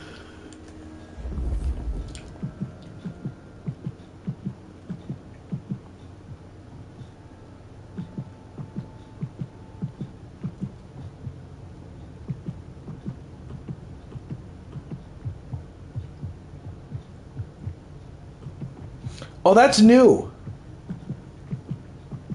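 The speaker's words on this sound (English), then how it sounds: "I can hear the heartbeats." Heartbeat sounds in the video game Vampire: The Masquerade Bloodlines 2, a soft, regular low thumping repeating steadily throughout, with a brief burst of speech near the end.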